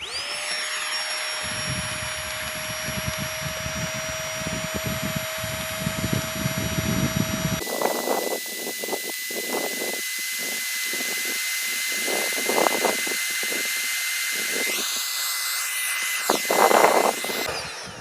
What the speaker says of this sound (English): then you just put your tiny pump on there as well, and then let it do its magic